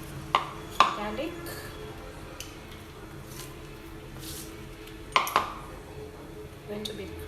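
Garlic crushed on a kitchen counter while cooking spaghetti and meat stew: a few sharp, close clacks and knocks at irregular intervals, with quiet kitchen background between them.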